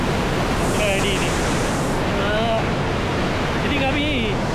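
River water rushes loudly where it splits off into a canal, a constant broadband roar with someone talking over it.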